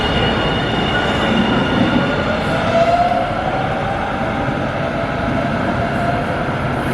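An LA Metro Breda rail car rolls along with a steady loud rumble and roar inside the cabin, with faint wheel squeals rising briefly over the constant noise.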